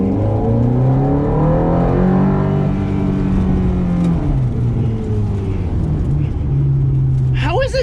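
A 2007 Ferrari F430 sports car engine accelerates, a loud continuous roar with rising and falling tones as it revs, heard from inside the car, with an excited voice talking over it.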